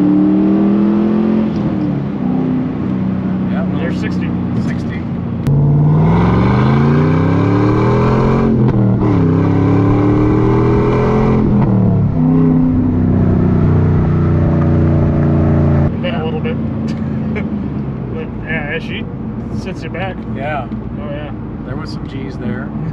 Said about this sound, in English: the Corsa exhaust on this makes a beautiful V8 note